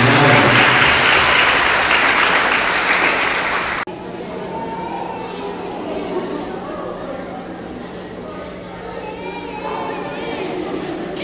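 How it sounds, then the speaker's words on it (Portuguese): Applause for the couple at a wedding ceremony, a loud, dense round of clapping from the guests that stops abruptly partway, leaving room murmur, children's voices and chatter. "Uma salva de palmas para o casal"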